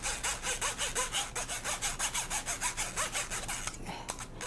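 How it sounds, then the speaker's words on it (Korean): A starch and seasoning mixture is scraped around a bowl with a steady, repeated rhythm of close, rasping strokes. No one speaks, and the scraping briefly thins out near the end. "모든 양념이 같이 섞여지도록 여기서도 긁어 주시고 아래에서도 이렇게 긁어 주세요"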